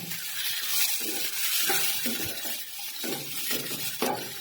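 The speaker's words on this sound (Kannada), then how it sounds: "ಇದನ್ನ ಈರುಳ್ಳಿ ಸ್ವಲ್ಪ ಫ್ರೈ ಮಾಡ್ಕೊಳ್ತೇನೆ." Onions frying in a pan for a mushroom curry, giving a steady hiss and sizzle broken by repeated stirring scrapes and clinks throughout.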